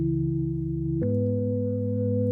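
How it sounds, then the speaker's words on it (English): A mellow, chill organ patch from the Falcon software synthesizer holds a sustained chord, then shifts to a new held chord about a second in, playing alone and clean. "So I pulled this organ sound out of Falcon."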